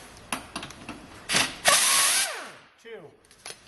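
An air tool on strut mounting bolts of a 2015 Chevrolet Tahoe, giving short rattling bursts followed by one longer loud zip that winds down, with faint clicks and noise around it.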